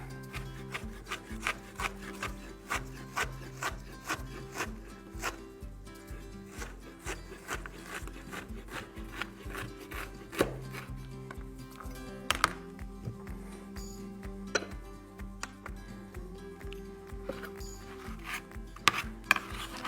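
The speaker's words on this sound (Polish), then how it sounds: "następnie kroję ją w cienkie paski" A knife slicing a vegetable into thin strips on a wooden board while making kimchi, a close, steady series of soft rhythmic cuts and scrapes with no talking.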